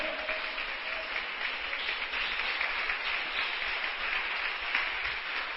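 A church congregation applauds steadily for several seconds, a dense, even wash of many hands clapping at moderate distance with no voices standing out.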